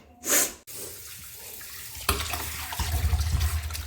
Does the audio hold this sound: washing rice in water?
yes